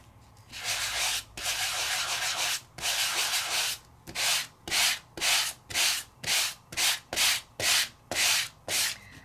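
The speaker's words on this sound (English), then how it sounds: "So you can always sand on one side and then check the back side" A die-cut paper piece is sanded by hand in a run of close, rhythmic scratchy strokes, long sweeps at first and then about a dozen shorter, evenly paced rubs with brief pauses between them.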